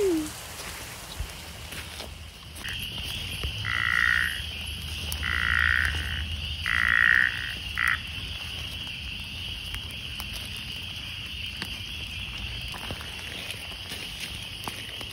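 Frogs call at night in the rain in Eswatini: three or four loud, buzzy croaks sound close by in a short series over a steady patter of rain and a faint, high insect trill.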